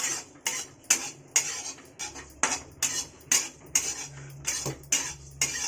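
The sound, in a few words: dried amla powder roasting in a pan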